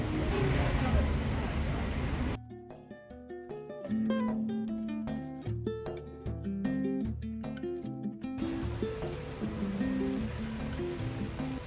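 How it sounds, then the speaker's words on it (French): A heavy rainstorm pours down in Seoul, a steady dense hiss at the start and end, with melodic music playing over it through the middle. "il est en train de pleuvoir de cordes, tempête, orage et tout"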